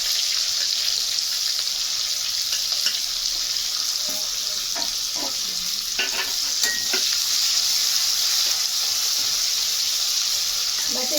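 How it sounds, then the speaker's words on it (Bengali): Onions sizzle in hot oil tempered with bay leaf, cumin and chilli while cooking jackfruit with prawns, a continuous close frying hiss with occasional stirring scrapes. "জিরে ফোড়ন দিয়ে আমি পেঁয়াজগুলো দিয়ে দিচ্ছি।"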